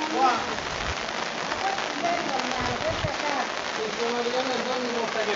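Heavy rain falling in Valleluce during flooding makes a steady patter on surfaces from start to finish, with people talking over it.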